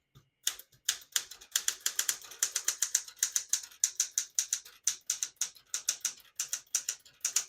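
Close typing on a Smith-Corona Galaxie Deluxe vintage portable typewriter from 1966-1972 gives a steady run of crisp, sharp key strikes in quick, slightly uneven rhythm. No voices are heard.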